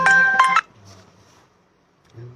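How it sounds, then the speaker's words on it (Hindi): A phone ringing with an incoming call, two short bright electronic tone bursts close up, followed by near silence and a faint low sound at the end. "लोगों के फोन आने शुरू हो गए"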